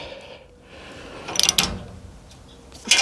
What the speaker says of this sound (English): So let me finish tightening this up.